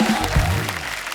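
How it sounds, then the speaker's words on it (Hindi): A studio audience at a TV comedy talk show claps for arriving guests, a short, loud burst of applause heard alone. "जोरदार तालियां हमारे मेहमानों के लिए।"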